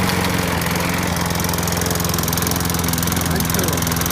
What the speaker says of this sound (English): It's a brand new spark plug, and it started up on the first pull.